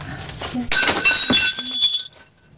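A plate falls in a kitchen and breaks with a loud crash, followed by a bright ringing scatter of shards that dies away after about a second.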